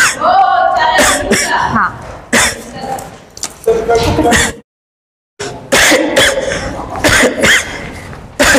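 Repeated coughing bursts from a person in a tuberculosis skit staged by nursing students, loud and close, mixed with speech and a brief silent gap midway.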